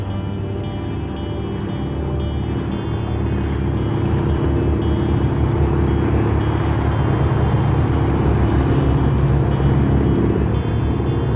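A Beechcraft Model 18 Twin Beech, a twin-engine vintage airplane, with a steady, loud, droning engine roar that builds slightly and holds for over ten seconds, with no talk.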